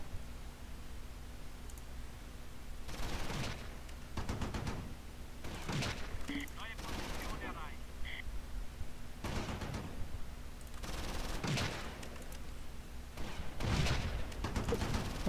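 Gunfire in the Close Combat wartime strategy game set at the Meuse in 1940, scattered bursts and rattles of rifle and machine-gun fire over steady battlefield noise, moderately loud, with a few brief tonal chirps between volleys.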